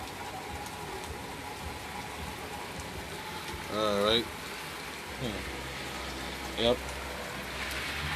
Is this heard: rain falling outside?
yes